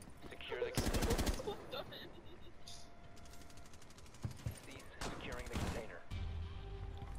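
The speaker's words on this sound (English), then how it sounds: "I hear so much shooting" Rapid automatic gunfire bursts from a shooting video game, loud near the start and again around the fifth second, with scattered shots and game noise between and voices talking over the action.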